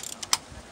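A hand ratchet loosening the spark plugs on a 2007 Saturn Vue with no compression in any cylinder gives a few quick, close metallic clicks and one sharper snap, all within a split second.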